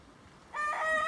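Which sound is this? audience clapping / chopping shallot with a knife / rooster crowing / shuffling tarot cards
rooster crowing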